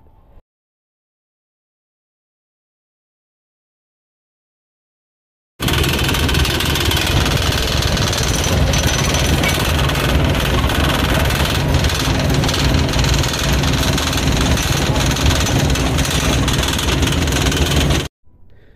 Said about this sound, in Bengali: এটা হচ্ছে বাসের ইঞ্জিনের আওয়াজ